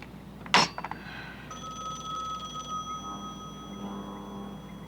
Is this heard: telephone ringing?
yes